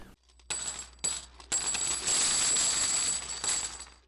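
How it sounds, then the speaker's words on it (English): A bag of silver and copper world coins is tipped out, sending a loud, continuous metallic clatter and jingle that rattles on for several seconds. "we'll just pour the bag out and get started"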